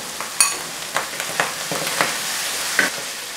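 Hilsa mustard paste sautés in a pan with a soft continuous sizzle, broken by about half a dozen sharp spatula scrapes and taps at irregular intervals.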